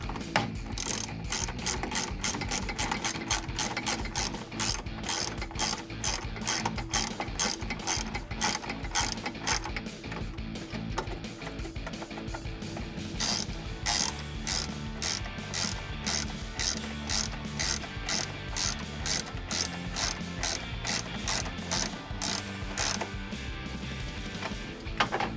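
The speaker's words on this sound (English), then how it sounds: "get my screws started with your 10 millimeter" A ratchet fitted with a 10 mm socket drives headlight screws on a 2016-2021 Toyota Tacoma SR5. Rapid, close clicking comes in repeated bursts, with a short pause partway through.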